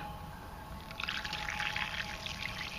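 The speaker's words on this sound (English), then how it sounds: "I'll pour some water in it and show you, if I can do all this at the same time, show you like how fast it comes out" Water poured through a Go Girl female urination device, a steady trickling pour rising after the first second and running continuously, close and moderately loud with no talk.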